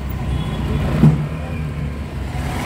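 A car in a driving lesson creeps backward as the clutch is let out slowly with the steering at full left lock; a steady low engine hum and road rumble, close and even, with no talking.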